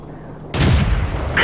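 Tank cannon fire in the World of Tanks video game: a single heavy boom bursts in after a quiet stretch and rumbles on, followed by a second sharp report near the end.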